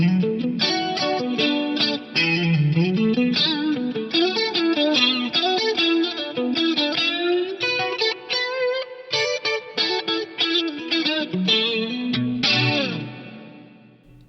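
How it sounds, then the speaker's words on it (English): Electric guitar playing a busy melodic line through effects with a Lexicon 480L reverb impulse response blended in, plucked notes and chords ringing with a distorted, chorused tone and a lingering reverb tail as the phrase ends. "reverb impulse response on the digit of a Lexicon 480L reverb, which sounds really, really nice"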